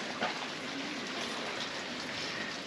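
Steady, soft rushing and trickling of water at a waterfall near Mossy Cave, Bryce Canyon National Park, a continuous broadband wash with no voices, fairly faint and even throughout.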